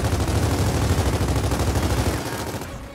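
Dense, continuous automatic gunfire from a firefight across the map in Gears of War 4. The loud, rapid bursts run unbroken for about two and a half seconds before easing off.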